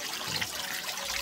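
Steady water pouring from an old shower in a village bathroom in rural Cianjur, a continuous close hiss and splash with no voices.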